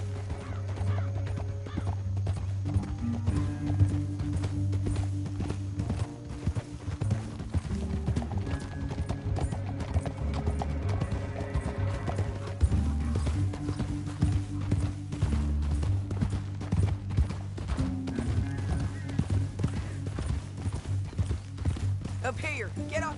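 Galloping horse hooves in Red Dead Redemption 2, a steady clip-clop rhythm running throughout with a horse whinnying, under game music and character voices talking.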